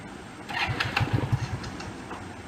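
A 16–17-year-old Butterfly BML 90cc motorcycle turns over on its self-starter, giving a rapid run of cranking pulses that catches into a brief engine burst, then settles back, heard close and alone.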